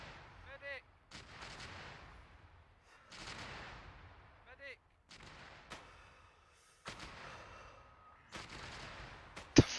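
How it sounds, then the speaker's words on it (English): Mortar rounds exploding in a military video game, several sharp heavy blasts spaced a few seconds apart, each followed by a brief rumble, with quiet stretches between them and the last impact loudest. "Why did every mortar have like 4 mortar rounds hit?"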